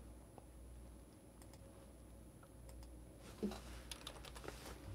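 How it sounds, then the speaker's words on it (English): Keys clatter on a computer keyboard as a store name is typed into a search box, a quiet run of light clicks picking up in the second half over a low room hum. "I'm gonna type in Espresso Outlet."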